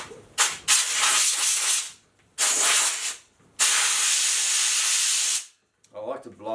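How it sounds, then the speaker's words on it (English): Compressed air hisses in loud, sharp bursts as it blasts dust out of an air filter, three long blasts with short gaps between them, close by, then faint rustling handling noise at the end. "if you're lucky enough to have compressed air, you can blow these clean"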